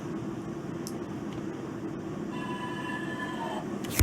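A simulated NYC subway train on the 6 line runs in the Open BVE train simulator, giving a steady low rumble with a constant hum, faint high squeals, and brief tonal whines near the end.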